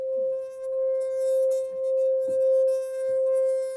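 A looped synth sample plays in Unify as a steady sustained tone with bright overtones, pulsing gently in volume, with faint clicks and soft noises underneath.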